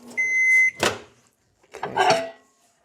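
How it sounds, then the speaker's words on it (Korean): A microwave oven warming a tortilla: a few short beeps, then the door or latch clunking, then a softer mechanical rattle and hum, close by and with nobody talking. "얘를 30초 동안 전자레인지에 데울게요"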